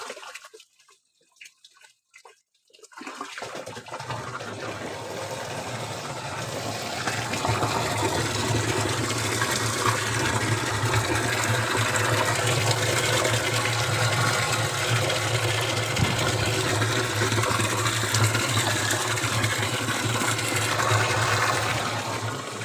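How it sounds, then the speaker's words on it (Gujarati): Water gushes and fills a container of cooked rice at a sugarcane farm, starting after a few quiet seconds and then a loud, steady rushing stream that holds for nearly twenty seconds. "પાણીથી ભરીએ અહીંયા હવે."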